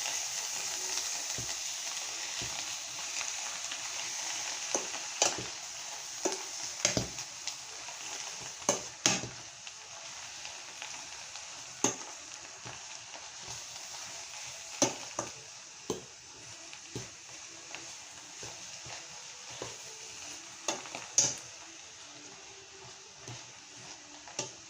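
Spinach and onions fry in a pan over high heat with a soft, even sizzle, broken by scattered clicks and scrapes as the greens are stirred, fairly quiet and close.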